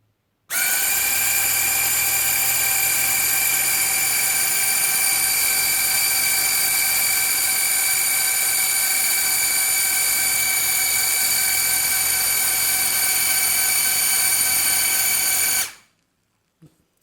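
A small plastic flying fidget spinner drone with three propeller blades starts up suddenly and whirs at a high, steady, whining pitch for about fifteen seconds before cutting off abruptly, loud and close.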